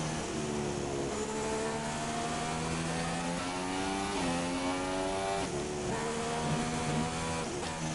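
A McLaren Honda Formula 1 car races in F1 2016, its engine a loud, continuous high-pitched whine that climbs through repeated upshifts, each gear change dropping the pitch before it rises again.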